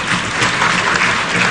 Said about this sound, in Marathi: जोरात टाळ्या वाजतात